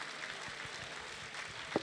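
Faint, steady applause from a lecture audience during an afternoon session of a lecture series, a soft continuous patter of many hands with no voices on top.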